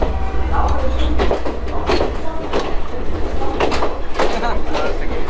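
A train runs along the rails in Sri Lanka's tea country, a loud close rumble with repeated clacks and rattles of the carriages, and a voice speaks briefly over the din.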